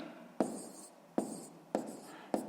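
Pen marks strike paper four times by hand as numbers are written out in a sixth-grade maths exercise, each stroke a short scratchy burst followed by a softening tail, close and quiet with no talk.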